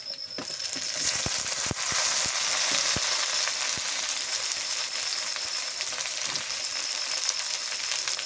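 Tomatoes sizzle and fry steadily in a hot pan while a fish dish is being cooked, with a few sharp clicks of the utensil against the pan early on and no talking.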